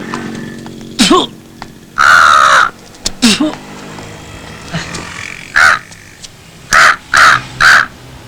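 A man imitates a crow, giving several harsh, nasal caws in short bursts, with a run of three quick caws near the end, loud and close.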